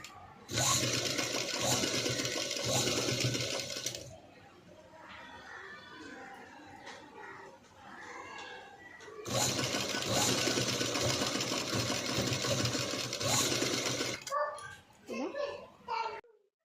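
A sewing machine stitches piping along a boat neckline in two long whirring runs, each about four to five seconds, close and loud, with quieter handling sounds and talk in the pause between them.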